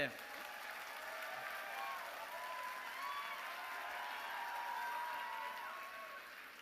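Audience applause at a large business event for its chairman, a doctor, a steady distant wash of clapping from a big hall, quiet and continuous with voices mixed in.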